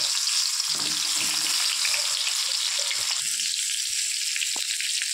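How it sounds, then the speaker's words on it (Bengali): Pointed gourds fry in hot oil in a wok, a steady bright sizzle and crackle that holds evenly throughout with faint stirring movements beneath, no voices. "তেল দিয়ে পটলগুলো ভেজে নেব"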